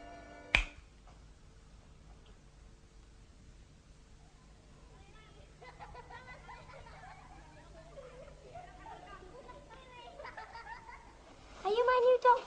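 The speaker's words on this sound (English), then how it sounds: "When I snap my fingers, you will wake up" A single crisp finger snap rings out near the start in a quiet room, followed by soft murmuring voices and then speech.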